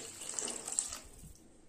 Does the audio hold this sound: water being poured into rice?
yes